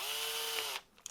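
An electric drill whines steadily at high speed while enlarging screw holes in a 3D-printed part, then stops abruptly, leaving a few small clicks.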